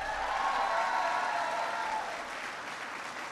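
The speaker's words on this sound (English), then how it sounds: "Give them a big round of applause." An audience at an event where veterans' hiring is discussed breaks into loud, steady applause that gradually fades, heard from within the crowd with no speech over it.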